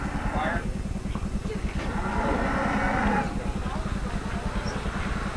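Cattle at a farm livestock auction low and shuffle nearby, with a drawn-out moo rising over a rapid pulsing rumble, while people talk in the background.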